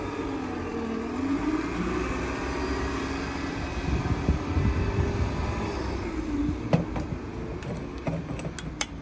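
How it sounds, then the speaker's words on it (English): A bus passes close by with a loud, steady engine drone whose pitch shifts as it moves, followed near the end by a few sharp clicks and knocks. "Let's just watch and hear nothing but this bus."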